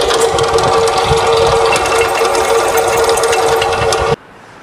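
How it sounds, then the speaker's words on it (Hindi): A power drill bores into a broken stud after it has been centre-punched, giving a loud, steady, buzzing whir close by that runs for about four seconds, then cuts off abruptly. "फिर इसमें ड्रिल करते हैं।"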